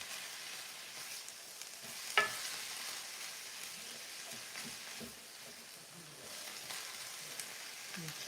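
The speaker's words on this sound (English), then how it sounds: "keep working my cabbage so that it starts to wilt a little faster" Cabbage tossed and stir-fried in a wide pan over high heat for a Panda Express-style dish, giving a steady broad sizzle with soft scraping, one brief clatter early on, and no talk over it.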